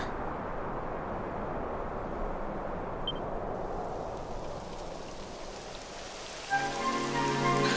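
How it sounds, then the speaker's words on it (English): Steady rain in the video game Dragon Quest XI hisses down on a surface, dense and even throughout, with a faint tone rising near the end. "Typical. It would have to go and start raining, wouldn't it?"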